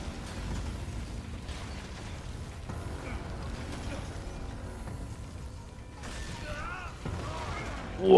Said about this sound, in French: Waouh, l'explosion!